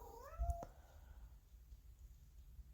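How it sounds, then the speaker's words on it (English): A female cat in heat lets out a single drawn-out, rising meow near the start, heard indoors in the background, followed by quiet room tone. "Please ignore my cat in the background. She's in heat."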